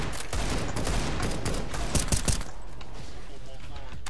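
Suppressed M4A1-S rifle fire in CS:GO gameplay on the Mirage map, with rapid shots and a short cluster of louder bursts midway, heard under a talking voice.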